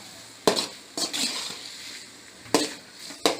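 Chicken pieces frying in a pan for restaurant-style chilli chicken, a steady close sizzle punctuated by four sharp scraping or stirring bursts.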